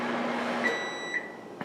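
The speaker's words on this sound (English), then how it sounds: "that was our microwave because he's doing coffee" Microwave oven humming as it heats coffee, a low steady drone that stops, followed by a few high electronic beeps near the end.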